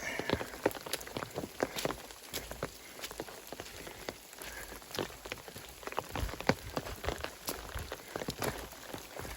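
Rain falling on a hiking trail on the Appalachian Trail, a steady close patter of drops on wet ground and gear with scattered heavier splats and faint footsteps, continuous throughout.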